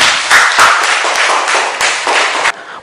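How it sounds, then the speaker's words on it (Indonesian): A classroom group in an Islamic religious education teaching session claps together in a short, loud burst of close, crisp hand claps that ends abruptly. "Iya, tepuk tangan"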